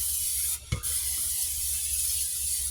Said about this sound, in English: Go ahead and spray this bowl down really good